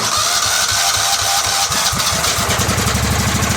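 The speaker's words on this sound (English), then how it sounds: "Got the ground hook back up, so let's give her a crank." A Cub Cadet 2166 lawn tractor engine with a leaking exhaust and head gasket cranks and catches, settling into a loud, rapid, steady chugging idle with no voices.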